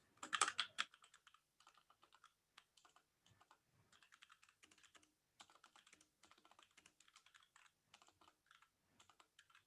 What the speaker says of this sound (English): Pardon my dyslexic typing.